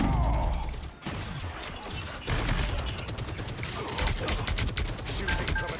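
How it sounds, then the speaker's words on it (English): In the video game Marvel Rivals, rapid gunfire and mechanical clatter sound in busy bursts under an excited commentator's voice, with crashes and metallic effects mixed throughout. "Shooting from a distance."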